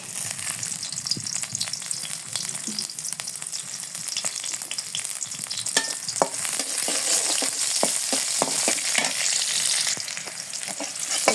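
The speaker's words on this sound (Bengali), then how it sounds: "কড়াইতে পেঁয়াজ কুচি দিয়ে দিছি, এখন আমি তেল দিয়ে দিই।" Steady hiss of chopped onions frying in oil in a wok, with scattered crackles and pops and the scrape of stirring throughout, no voices.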